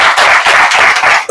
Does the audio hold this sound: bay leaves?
no